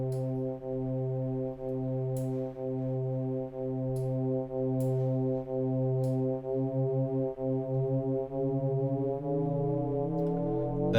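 Arturia DX-7 V software FM synth preset with a tiny detuning offset, a steady sustained low tone whose layers slowly beat and waver against each other across several pulsing notes, with a few faint clicks.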